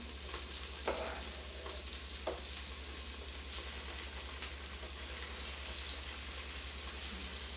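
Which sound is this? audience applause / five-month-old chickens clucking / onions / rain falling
onions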